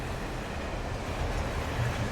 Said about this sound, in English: That's the train I saw earlier.